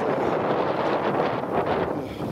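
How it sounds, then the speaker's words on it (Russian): Steady wind blowing and buffeting close to the microphone, a continuous broadband rush with gentle surges and no voices. "Ветер дует"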